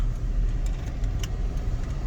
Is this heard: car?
yes